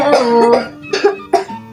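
A sick child coughs in three bursts, loud and close, with short pauses between, alone with no talk.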